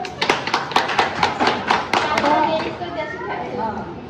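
Audience applause at a newspaper's 11th anniversary celebration in Dombivli, a burst of clapping hands with sharp claps standing out, fading to scattered claps under a speaker's voice.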